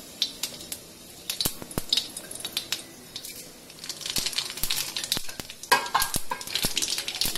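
Tempering seeds frying in hot oil for a raw banana curry, a close crackling sizzle with sharp popping bursts scattered throughout, growing busier in the second half.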